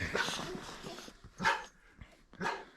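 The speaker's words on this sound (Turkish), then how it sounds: "Güzel köpek, güzel köpek." A dog makes short barks and yips in a few separate bursts, fairly close, with some quieter movement between them.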